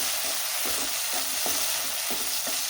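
Vegetable fried rice stir-fried in a pan with sauce being added, a steady loud sizzle with rhythmic scraping stirs of a spatula roughly every half second, no voices.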